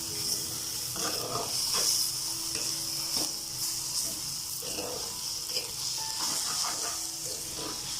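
Beef sautéing in a pan for Kerala beef thoran gives a continuous close hiss and sizzle, broken by irregular scraping and clinking of stirring throughout.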